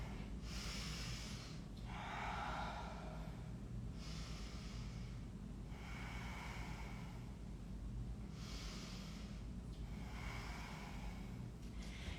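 Slow, deep breaths during a yoga pose, several audible inhale-exhale cycles, airy and close, spaced evenly over a quiet low hum with no speech.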